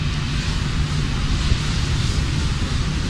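A very strong crosswind sweeps across an outdoor foam tank-fire test, a loud, steady broadband roar of wind buffeting the microphone with no voices.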